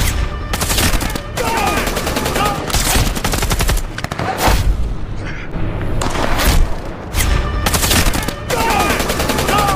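A film action scene is full of loud, rapid sniper gunfire. Sharp shots and bursts repeat in quick succession over about ten seconds, with booming impacts, and no voices stand out.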